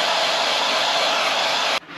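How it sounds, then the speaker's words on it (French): A hair dryer blows hot air over window film on a 4x4 to chase out small bubbles, a loud close steady whoosh that cuts off abruptly near the end, leaving a quieter hiss. "on va faire ça au sèche-cheveux."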